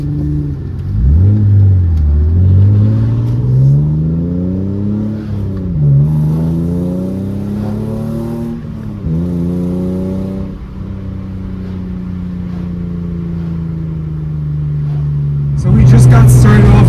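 Rally cars pull away from the start of a road rally one after another, engines climbing and dropping in pitch through repeated gear changes, loud and nearby, with a person talking over part of it and wind noise near the end.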